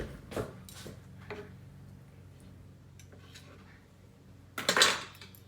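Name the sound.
fork and knife cutlery being handled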